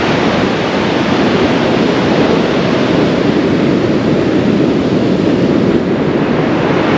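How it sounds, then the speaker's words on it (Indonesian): Loud, constant roar of heavy surf crashing on Pantai Cemara beach, Cidaun, Cianjur, West Java, a dense wash of breaking waves with no pauses and no voices. "di sini ombaknya ganas banget ya"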